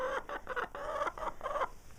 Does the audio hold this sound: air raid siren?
no